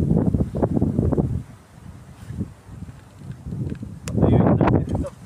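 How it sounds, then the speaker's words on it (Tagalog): Strong wind gusting outdoors buffets the microphone in heavy, uneven low rumbles, surging and easing over several seconds, with a loud gust near the end; faint voices may sit underneath. "Malakas pa hangin."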